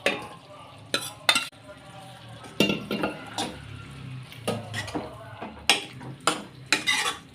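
Cooked dal added to a pot of flat bean kootu and stirred, with sharp spoon knocks against the metal pot over a soft simmer, close, in irregular bursts.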